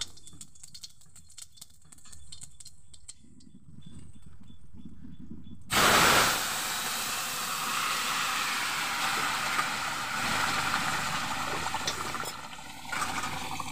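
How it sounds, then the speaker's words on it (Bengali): Whole cumin seeds hit hot oil in a wok and erupt into a loud, steady sizzle at about six seconds, hissing and spattering continuously after quieter kitchen sounds. "কড়াইতে তেল দিয়ে দিয়েছি আর গোটা জিরে"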